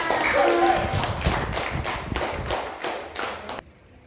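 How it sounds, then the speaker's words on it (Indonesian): Applause from a small group, a run of rhythmic claps that fades and then stops abruptly near the end. "tepuk tangan untuk kita semua"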